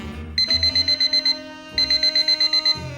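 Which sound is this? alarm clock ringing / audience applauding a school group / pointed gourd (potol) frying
alarm clock ringing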